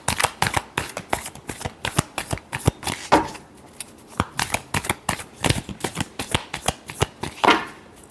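Tarot cards are riffled and shuffled in a long run of quick, crisp bursts, each ending in a sharp snap, with a brief pause midway. The cards are close and fairly loud, and nobody speaks.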